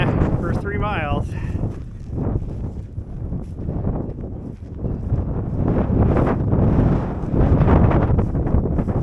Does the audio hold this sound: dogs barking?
no